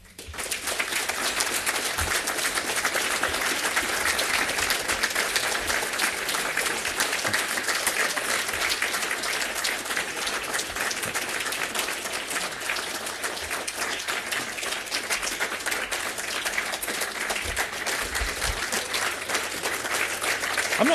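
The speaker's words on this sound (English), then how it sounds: "I do thank you for the applause." Audience applause at a talk, a steady dense wash of clapping from a large crowd that holds at an even loudness for about twenty seconds without talk.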